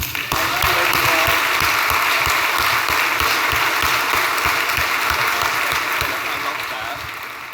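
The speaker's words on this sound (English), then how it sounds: "I'm going to ask you to clap twice" Audience at a New Culture Forum event applauding Dan Wootton, a loud, dense burst of many hands clapping that holds steady and then tapers off near the end.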